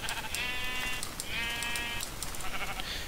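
Sheep in Minecraft bleat twice in quick succession, each a wavering nasal call under a second long, over a busy hiss of game background noise.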